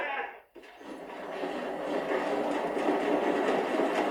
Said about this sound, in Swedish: You have to go out there and start the train before it crosses the bridge.